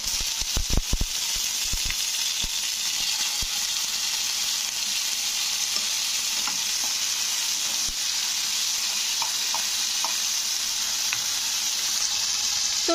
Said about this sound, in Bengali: তো এটাকে নাড়তে হবে যতক্ষণ না টমেটো আর লঙ্কাটা ভালোভাবে ভেজে যাচ্ছে তেলের মধ্যে